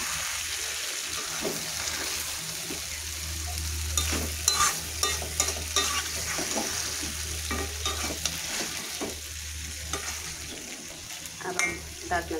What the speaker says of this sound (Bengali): আবারও নাড়াচাড়া দিয়ে দিব।